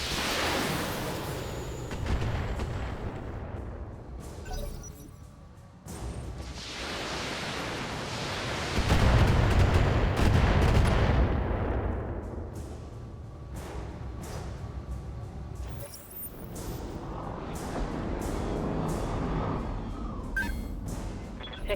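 Mech weapons fire in BattleTech, including a Shadowhawk's volley. The sound comes as a series of broad, noisy blasts and rushing bursts that swell and fade in waves, with the loudest surge near the middle. No talk is heard.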